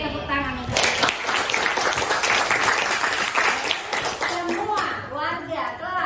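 Students in a high school class clap together, a burst of brisk many-handed clapping that rises abruptly and holds for a few seconds, with children's voices talking before and after.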